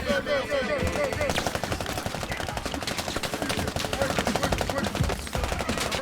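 Rapid automatic gunfire rattles almost continuously during an infantry helicopter insertion in the video game Squad, loud bursts from several weapons overlapping in a steady, chattering rhythm.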